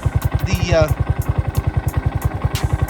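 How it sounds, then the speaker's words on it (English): A 2022 Honda Grom motorcycle with a new Antigravity battery cranks over: a fast, even, close chugging of the starter turning the engine, steady for about three seconds, with a brief voice speaking early on. "It definitely has enough juice to crank over."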